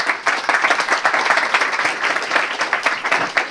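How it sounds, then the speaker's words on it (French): An audience breaks into applause as speaker Arnaud Daguin is welcomed to open a day's event, with dense, sustained clapping that is loud and close and holds at an even level for several seconds. "je vous demande d'accueillir et d'applaudir Arnaud Daguin"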